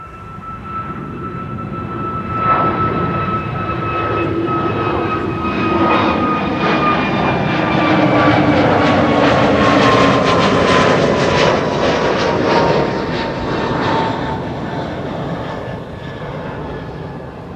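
A Pegasus airliner takes off from runway 24 (Kaagbaan) at Amsterdam Schiphol, its engines roaring loud and steady with a rising whine, swelling toward the middle and easing slightly as it climbs away.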